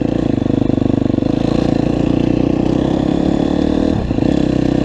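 A 2019 KTM 250SXF four-stroke motocross bike engine revs loudly and steadily up close, with a brief dip in throttle near the end before it picks back up.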